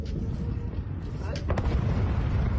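Air defence fire over Crimea heard as a rumbling series of distant blasts and thuds, with a sharper burst near the middle, under steady low background noise.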